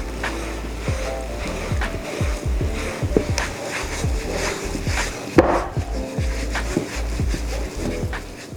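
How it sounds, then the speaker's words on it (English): Blueberry muffin batter being mixed as the wet ingredients are folded into the dry ones in a bowl, giving repeated soft thumps and scraping strokes in an uneven rhythm, close and fairly loud. "give this a nice good mix, making sure all of your wet ingredients are well combined with your dry ingredients"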